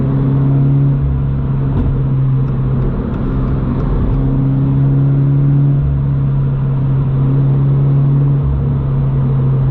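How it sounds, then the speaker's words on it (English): A 2022 Subaru BRZ with the 2.4-litre FA24 boxer engine and an aftermarket catback exhaust drones loudly and continuously, with a steady low rumble and slight swells in revs throughout. "Honestly, the FA24 don't sound that bad."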